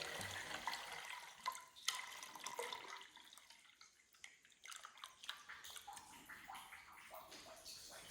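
Water runs into a jug, pulsing from a thin trickle into a nearly solid stream; the splashing is faint and uneven, surging and easing over several seconds with no talk.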